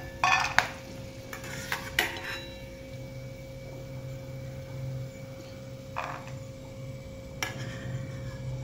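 Fried peanuts are scooped out of a frying pan with quiet scraping and metallic clinks of a spoon against the pan over a faint, continuous background sizzle, with a few sharper knocks early on.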